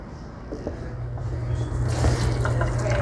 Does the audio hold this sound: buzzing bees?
no